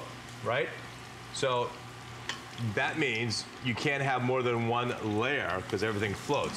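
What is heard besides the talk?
beer batter tempura sizzling in oil in ceramic wok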